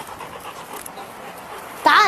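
A dog panting in quick, breathy bursts that rise sharply and grow loud near the end, following a stretch of low background noise.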